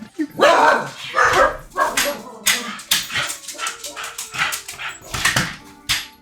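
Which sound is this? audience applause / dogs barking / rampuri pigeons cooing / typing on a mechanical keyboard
dogs barking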